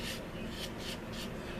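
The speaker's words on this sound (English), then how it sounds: "Constantly sanding." Rhythmic rasping strokes of a sanding board worked over small plastic parts of a 1/72 scale C-131D Samaritan model kit, about four close, even back-and-forth passes with no talk.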